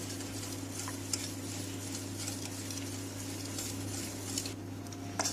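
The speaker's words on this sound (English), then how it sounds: "You need to stir it continuously until your sugar dissolves in your milk" Sugar being stirred into milk in a bowl, with faint spoon clinks and scrapes over a steady low hum, quiet and close with no voices.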